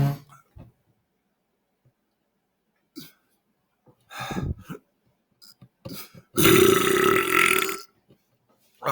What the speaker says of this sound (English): One more last burp.